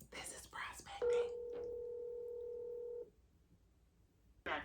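A phone number is dialed for a sales prospecting call by a real estate agent, a steady electronic tone holding for about two seconds after brief talk, with a voice returning at the end.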